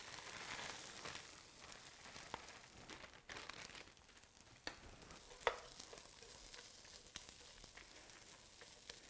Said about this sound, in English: to our skillet, we are going to add 1 bag of breakfast potatoes